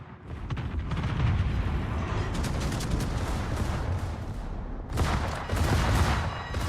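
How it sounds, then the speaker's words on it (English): Torpedo and gunfire effects in the naval battle game World of Warships, a loud continuous rumbling barrage with heavy bursts that swell again near the end, no talk. "Oh, I hear torpedoes."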